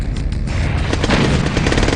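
Rapid booming cannon fire from tanks in the Red Alert strategy game, a dense two-second barrage of overlapping heavy shots and gunfire, loud and continuous with repeated sharp impacts.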